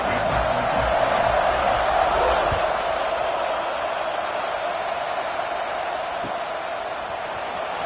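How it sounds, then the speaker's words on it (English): A football stadium crowd roars in a steady, sustained wash of cheering before kickoff, loud and continuous, with a commentator's voice faintly underneath. "They're set to kick it off, and this crowd now ready to get behind them."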